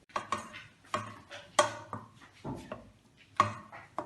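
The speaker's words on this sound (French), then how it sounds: "tu prends la grande cuillère en bois et tu mélanges le tout" Wooden spoon knocking and scraping around a pot of pasta in irregular clattery bursts, close up, with no talking.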